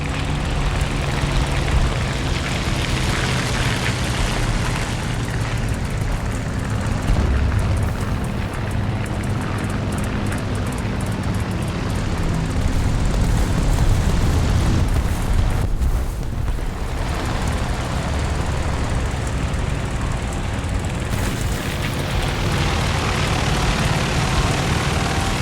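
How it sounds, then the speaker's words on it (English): A steady, loud drone of aircraft engines roars overhead in a video game, propeller planes blending into a continuous rumbling wash with no break for the whole stretch. "Hear anything over all the planes flying overhead right now"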